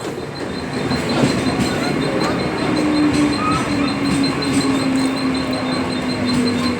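A metro train rumbles steadily past with a continuous roar, a high wheel squeal rising through the middle, and faint rhythmic clatter throughout.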